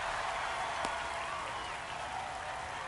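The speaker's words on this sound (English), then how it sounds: "Boy, that would get the crowd happy, wouldn't it, Bob?" A baseball crowd at a minor league game between the San Antonio Missions and Tulsa Drillers cheers and applauds after a base hit, a steady broad roar heard from a distance.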